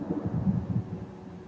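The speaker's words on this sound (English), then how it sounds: "it's really thundering out. We're about to get hit with a big storm" Thunder from a storm building outside, a low, soft rolling rumble that swells and fades within a second or two, heard faintly from a distance.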